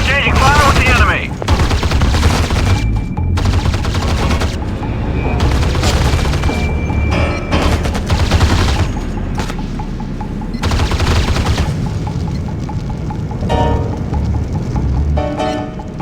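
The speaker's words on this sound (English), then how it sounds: "On board, exchanging fire with the enemy." Sustained gunfire exchange in the PC strategy game Act of War: Direct Action, dense bursts of automatic fire and rapid shots layered with intermittent booms, loud and continuous with brief unit voice lines mixed in.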